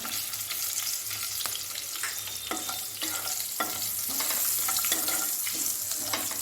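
Nigella seeds, black cumin, dropped into hot oil alongside green chilies, giving a continuous moderate sizzle with scattered crackles and stirring scrapes, no talking.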